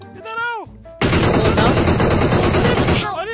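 A rapid burst of automatic gunfire in a shooting video game, loud and dense for about two seconds, with brief voice-like sounds just before and after it.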